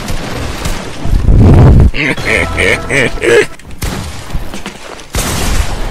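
Gunfire in an online shooter video game during a solo cash cup match, loud bursts and rapid shots with mechanical clicks, mixed with game sounds and a player's voice talking over them.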